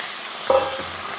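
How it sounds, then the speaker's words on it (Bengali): Mutton pieces frying in a pan for a Bengali kosha curry, a soft sizzle with one sharp scrape or clatter of stirring partway through, close and brief with no talking. "তো মাংসটাকে ভেজে নেব।"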